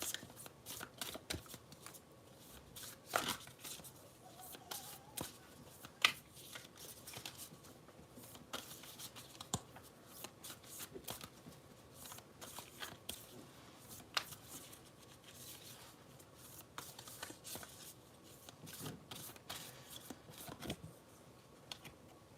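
An oracle card deck is shuffled by hand, producing soft, irregular riffling clicks and flutters that stay faint and close, with no speech over them.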